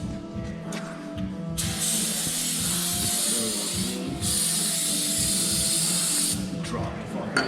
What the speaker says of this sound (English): There's some brake clean, wipe her down, lube her up.